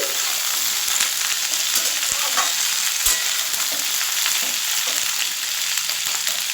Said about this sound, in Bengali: শিমটা দিয়ে আমি নেড়ে দিয়েছি